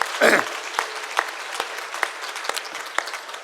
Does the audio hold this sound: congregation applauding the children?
yes